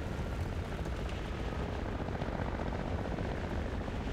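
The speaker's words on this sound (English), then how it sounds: "That's a real helicopter." A steady, dense rotor roar of a helicopter in the video game War Thunder, constant and fairly close, with no talking.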